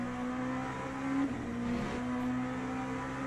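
A race car engine in the simulator game Le Mans Ultimate holds a steady droning note with a brief dip and wobble in pitch in the middle, heard alone.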